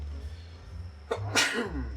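A single sharp sneeze with a quick inhale before it, close and loud, over a low background hum.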